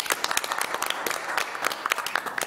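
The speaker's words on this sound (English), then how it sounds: "let's give these gentlemen a round of applause" A room at a school board meeting breaks into applause, dense overlapping claps at a moderate distance that hold through the whole moment.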